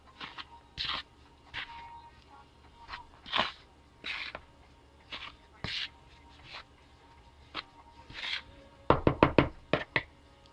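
Dough ingredients, flour with a quarter teaspoon of salt, mixed in a bowl for Ghana drop doughnuts, heard as a series of soft knocking thumps against the bowl and a quick burst of rapid taps near the end, close and moderately loud.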